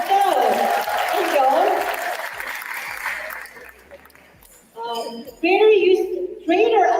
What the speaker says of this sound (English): Let's give them a warm of applause.